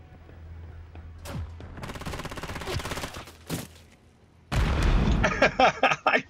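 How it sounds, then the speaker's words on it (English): Gunfire in the Call of Duty: Modern Warfare 3 video game: scattered shots and rattling bursts of automatic fire, near and loud, ending in a heavy explosive blast followed by further sharp pops. "I hear all this gunfire"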